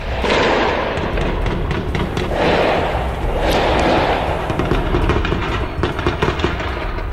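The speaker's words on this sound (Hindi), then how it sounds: "पेरिस की पुलिस ताबड़तोड़ फायरिंग कर रही थी।" Dense, continuous rumbling bursts of heavy police gunfire in Paris during a hunt for attackers, loud and sustained with sharp repeated impacts, no voices.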